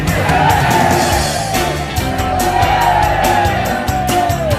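A temple crowd shouts loudly and continuously, a dense wall of voices that yell and whoop together without a break.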